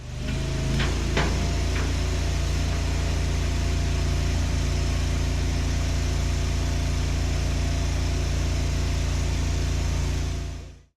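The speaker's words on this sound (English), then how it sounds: "let me get the Easton Made started up, and we'll split these up" An Easton Made wood splitter engine runs at a steady, loud idle with a deep continuous rumble. A few metallic clicks come near the start, and the engine cuts out abruptly at the end.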